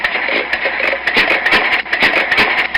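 An old engine runs roughly in a repair shop, sputtering and uneven with irregular bursts and dips in a loud, close rumble. No voices can be heard.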